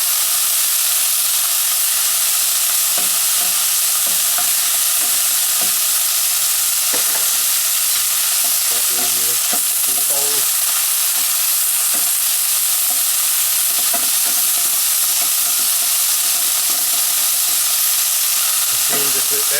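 Beef browning in a pan for a Madras curry, giving a loud continuous sizzle and hiss with scattered spits and a few scraping stirs.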